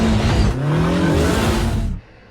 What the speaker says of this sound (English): It just makes this throaty sound, and that's what the Pro R sounds like.